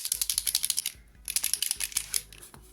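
An Arrtx acrylic marker is shaken hard, its mixing ball clattering inside in two quick bursts of rapid, close, clicky rattling separated by a short pause.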